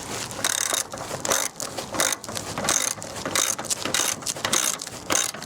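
Tightening bolts while assembling a sliding gate produces rapid ratcheting clicks in quick repeated bursts, close and fairly loud, with no voices.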